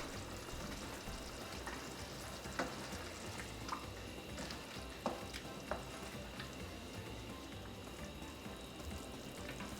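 Filipino-style shrimp curry cooking in a pot, a steady quiet sizzle and simmer with a few sharp ticks of a utensil against the pot, no voices.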